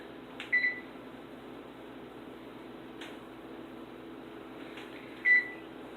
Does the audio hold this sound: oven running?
yes